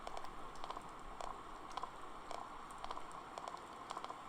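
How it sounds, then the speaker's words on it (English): Steady rain patters in the video game Persona 4, a soft continuous hiss with faint scattered ticks and drips, fairly quiet and without voices. "And it's still raining."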